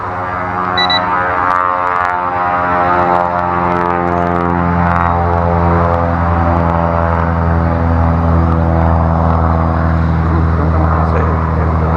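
An FPV drone hovers and slowly rotates in place, its propellers giving a steady, close, buzzing whine that holds for the whole stretch with slight shifts in pitch.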